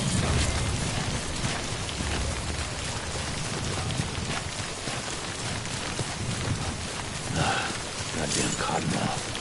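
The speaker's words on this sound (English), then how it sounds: "Don't stay out in the rain any longer than you have to." Steady rain falls across an open landscape in the video game Death Stranding, a dense continuous hiss of drops with faint low rumbles, lasting throughout with no voices.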